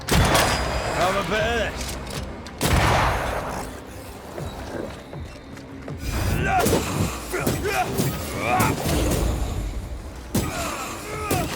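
Gunfire in the video game Banishers: Ghosts of New Eden, with booming shots and heavy impacts scattered through a dense, loud mix of game effects, and someone talking over it.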